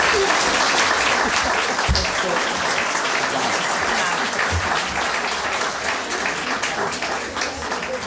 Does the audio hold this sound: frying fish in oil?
no